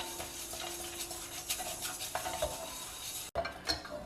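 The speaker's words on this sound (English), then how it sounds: "First, we will dry roast this split green moong for just 2 to 3 minutes." A spoon stirs and scrapes split green moong dal as it dry roasts in a pan, giving a faint, steady run of light rattling and scraping with no one talking.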